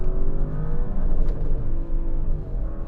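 A 2021 Audi RS7 Sportback accelerates hard under paddle-shifted gear changes, its engine roaring steadily and loudly up close throughout, with no talking.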